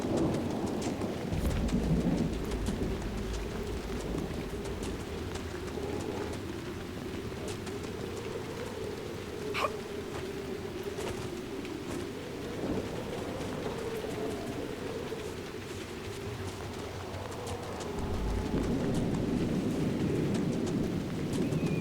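Steady rain falls with rolling thunder in a stormy scene from the game Dragon Age Inquisition, a dense continuous wash of droplets and low rumbles with faint bird calls and no voices.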